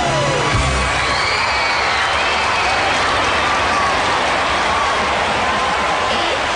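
A theatre audience at a Russian stage show devoted to Vladimir Vysotsky applauds steadily and loudly throughout. The clapping is dense and continuous, with faint cheering mixed in.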